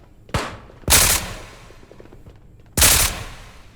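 An M240B machine gun fires in the VR shooter Ghosts of Tabor in short, separate bursts: a brief first one, a longer loud burst, then another after a pause. The shots are heavy and close, with no talk over them.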